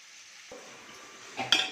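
Onion slices with cinnamon, cloves and cardamom frying in groundnut oil for mutton biryani, a soft steady sizzle with occasional stirring and a brief louder clatter of a utensil near the end.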